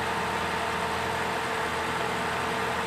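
A 3.6-liter V6 in a 2006 Cadillac CTS runs at a steady idle after a cylinder head, valve and timing chain repair, with an even, continuous hum close by and no talking.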